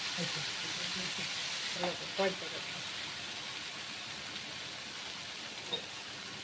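Maggi noodles tossed with spices in a pan, giving a steady low sizzle with a few brief scraping stir sounds near the middle while voices murmur faintly underneath.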